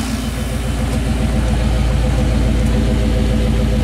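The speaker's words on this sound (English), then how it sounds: "with the EGR valve reinstalled, we're warming it back up" A classic Chevy engine idles steadily while warming up after its EGR valve was reinstalled, giving a close, loud, even low rumble with a regular pulsing beat and no voices.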